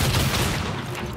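Gunfire in the samurai video game Ghost of Yotei, a short, dense, loud burst of rapid shots that fades within about a second.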